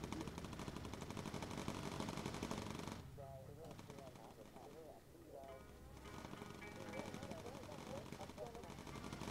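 Turret machine-gun fire aboard a bomber in the video game Bomber Crew, rapid bursts running almost continuously behind excited talk among the crew, with a brief dip in the shooting midway.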